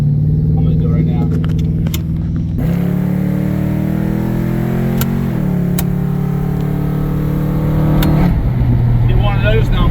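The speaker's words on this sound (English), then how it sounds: "do a burnout, do a burnout, do a burnout, do it every 5 seconds" A 1989 Mercury Grand Marquis doing a burnout: a loud, close engine roar that swells and climbs in pitch as it revs hard, holding a heavy, continuous rumble throughout.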